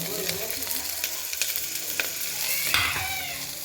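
Ingredients for radish sambar frying in a hot pan, a close, steady sizzle and crackle with occasional sharp pops and stirring scrapes, no voices.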